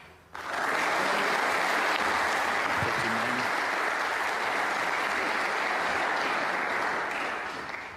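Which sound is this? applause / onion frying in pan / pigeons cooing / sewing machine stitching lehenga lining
applause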